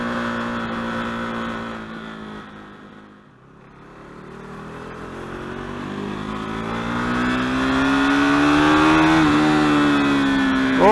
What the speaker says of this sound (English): RC is so much fun to ride in the city.